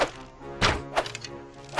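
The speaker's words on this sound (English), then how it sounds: "Oh, that was a headshot, it looks like." In the Mount & Blade Warband game, arrows strike enemies with a few heavy, close thunks and whacks, one loud impact followed by two lighter hits against faint background noise.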